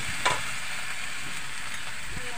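Young jackfruit frying with turmeric, salt and spices in a pan, giving a steady close sizzle with a few light stirring scrapes, no talk.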